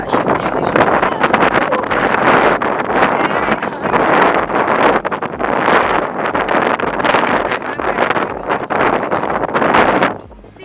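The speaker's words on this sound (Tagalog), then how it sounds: "Oh, it's getting really windy now" Strong wind gusting hard at Port Melbourne beach, a loud roaring rush buffeting the microphone almost nonstop for about ten seconds before dropping away abruptly.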